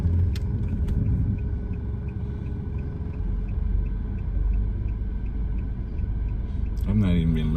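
A car drives steadily during a road driving exam, its engine and road rumble continuous and close with a faint regular ticking like a turn signal; a voice talks near the end.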